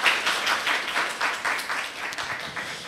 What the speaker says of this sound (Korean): 우리 과장님께도 박수 부탁드립니다.